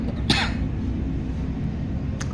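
A single sharp cough rings out near the start, and a fainter short burst follows about two seconds later, both over a steady low room hum with no talking.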